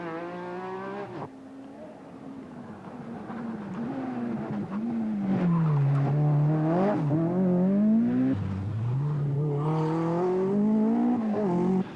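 A rally car on a stage of the 1986 Ulster Rally revs hard through the gears, its engine note rising and dropping with each shift, loud and close, with brief tyre noise between bursts.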